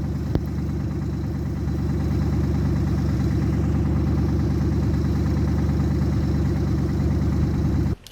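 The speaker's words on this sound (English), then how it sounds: "So I'll play the first clip of the Mustang just idling before I did the burnout" A Ford Mustang engine idles steadily with a deep, even, rapid pulsing rumble, loud and close, cutting off abruptly at the end.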